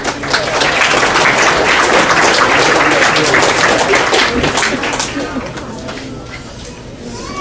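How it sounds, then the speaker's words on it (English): Audience at a varsity fall sports banquet gives a loud, sustained round of applause, a dense wash of clapping that gradually thins out toward the end. "Let's give them another round of applause."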